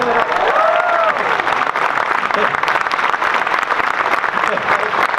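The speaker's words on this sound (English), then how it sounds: "So even though he's not here, give a round of applause for Raleigh." Audience applause fills a convention panel at Galaxycon for the Dragonball voice actors, a dense, steady roar of clapping hands throughout, with a few scattered cheers and voices mixed in.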